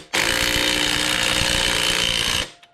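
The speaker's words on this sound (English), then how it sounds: "Now we can run these compressors back off." Coil spring compressors on a 2021 2WD Chevy Tahoe or GMC Yukon strut are backed off with a power tool, a continuous loud rattling impact buzz lasting over two seconds, close and alone, then cutting off.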